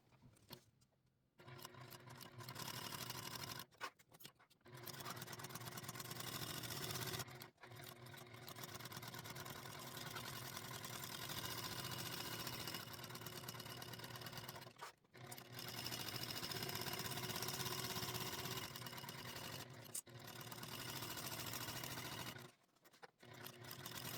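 A sewing machine stitches around a fabric wristlet in long, steady whirring runs, pausing briefly several times between bursts, close and fairly loud with no talk.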